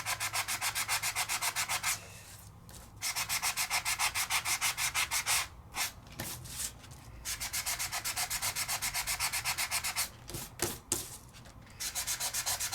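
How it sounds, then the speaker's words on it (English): A sanding block edge rubs over a foiled paper design in fast, rhythmic back-and-forth strokes, close and crisp, broken by a few short pauses. "And I can just sand it till my heart's happy."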